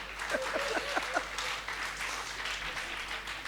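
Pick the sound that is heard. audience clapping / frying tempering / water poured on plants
audience clapping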